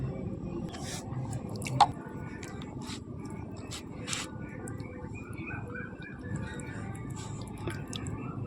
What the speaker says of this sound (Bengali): এবার আমগুলোতে আমি জল দিয়ে আমের খোসাগুলো ছাড়িয়ে নেব